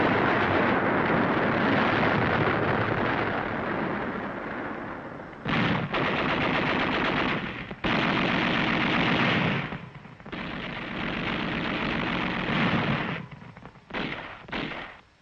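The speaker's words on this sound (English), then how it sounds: "Then, one of our machine guns opened up." Sustained machine gun fire from 1945 combat on Okinawa, loud dense bursts rattling on for long stretches with brief gaps between volleys, heard alone without speech.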